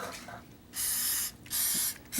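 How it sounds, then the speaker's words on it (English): Cooking spray hisses from a can into a muffin tin for vegan walnut muffins, two close bursts of about a second each separated by a short pause, with a third starting at the end. "I'm going to go spray"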